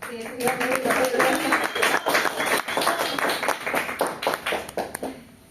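A room of people claps for several seconds, a dense patter of hands that gradually thins out toward the end, with faint voices underneath.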